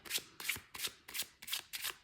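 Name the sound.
shuffling a deck of cards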